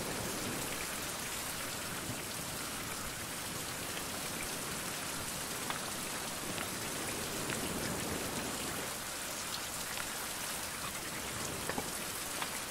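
Steady rain falls throughout in the survival game Fountain of Youth, a dense, even hiss of drops on surfaces with no voices, holding constant from start to end.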